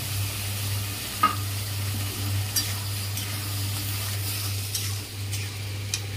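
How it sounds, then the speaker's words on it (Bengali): Turmeric and a poppy-seed and coconut paste being stirred in a pan, giving a steady low sizzle with a few faint scraping ticks of the spoon, close and unhurried. "একটু হলুদ দিলাম, দিয়ে নাড়বো।"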